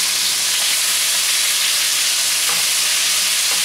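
Tomatoes hit a hot stir-fry pan for a Chinese tomato and egg dish, raising a loud, steady broadband sizzle and hiss of juice frying, with faint clinks of the pan underneath.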